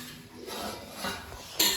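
Dishes, pots and cutlery clatter as a mother sets them out in a home kitchen, soft scraping and clinking ending in a sharp metallic clank.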